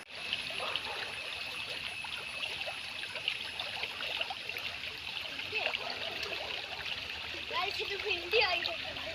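An overflowing stream swollen by days of heavy rain rushes and gurgles close by in a steady, bubbling flow, with faint voices now and then beneath the water.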